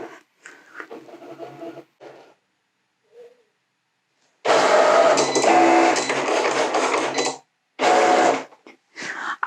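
A Cricut cutting machine working through a print then cut job, with motor whirring and carriage movement in loud, sustained bursts separated by short pauses, close to the listener.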